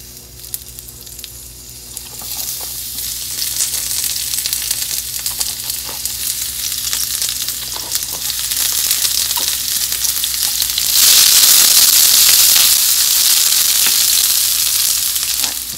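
Onions land in a hot pan on a medium stove and sauté with a steady close sizzle that grows louder and brighter partway through, broken by small stirring clicks, with no one speaking.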